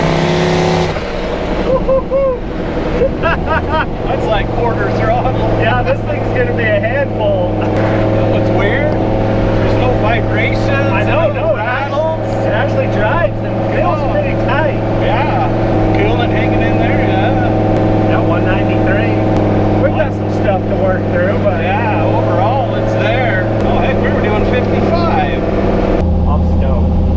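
Truck engine held at about quarter throttle during repair work, a loud continuous rev with steady harmonic drone and slight pitch wavering, close by, with voices talking over it.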